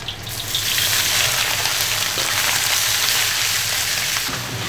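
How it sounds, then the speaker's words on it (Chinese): Pig lung hits hot oil in a wok already fragrant with ginger and garlic, bursting into a loud, steady sizzle that holds for several seconds, with no talking. "下猪肺下去煸"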